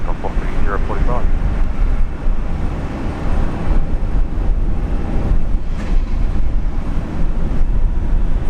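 An airliner takes off from runway 19 right at Brisbane International, a loud, steady, broadband engine roar that holds for the whole stretch, with radio voices talking over it.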